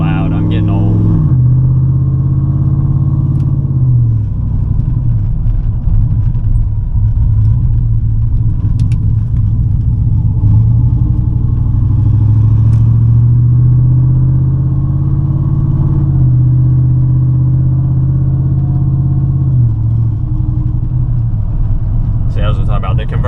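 GMC truck with an aftermarket cam and Y-pipe exhaust rumbles loudly while driving, a deep steady engine drone with shifting revs, heard from inside the cab as someone talks over it.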